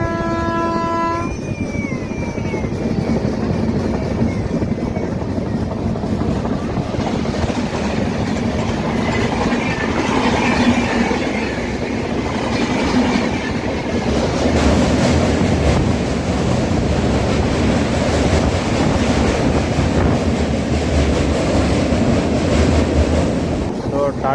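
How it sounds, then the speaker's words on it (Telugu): A Tata Nagar weekly superfast train hauled by a WAP-7 electric locomotive passes close by, a short horn blast at the start giving way to a long loud rush of wheels and wagons with wind noise. "so Tata Nagar weekly super fast అయితే వైట్ వ్యాప్ సెవెన్ లోకోమోటివ్ అనుకుంటా నాకు తెలిసి ఈస్ట్లో వస్తుంది"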